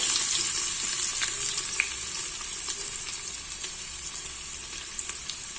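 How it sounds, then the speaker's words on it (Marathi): Finely chopped onion frying in hot oil with crackling cumin seeds: a loud, continuous bright hiss with faint scattered pops, close and unbroken throughout. "जिरं छान तडतडू लागली की गॅस बारीक करायचा त्यामध्ये एक कांदा बारीक कापून"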